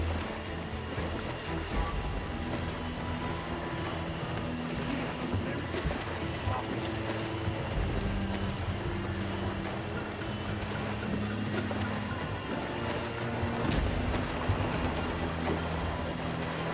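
Sailing ship Jackdaw moving through shallow water in a pirate video game, a steady broad wash of waves and hull noise filling the whole stretch, with low droning tones beneath and no pauses.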